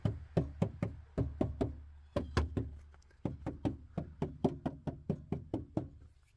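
A trunk panel lined with sound-deadening material is knocked in quick rhythmic bursts of dull, deadened thuds, with short pauses between groups, close up and moderately loud.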